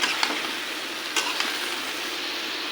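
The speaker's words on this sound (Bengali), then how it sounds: "এখন এখানে লাউ দিয়ে দিব লাউ দিয়ে ভালো করে কষিয়ে নিতে হবে" Bottle gourd stir-frying in hot oil with spices for a gourd and bata fish curry, a steady bright sizzle with a few sharp stirring scrapes and clatters near the start and middle, no voices.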